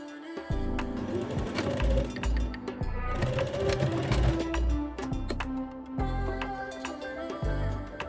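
Sewing machine stitching the short ends of a kimono jacket's neck binding, a close rapid mechanical whir in bursts with short pauses between runs.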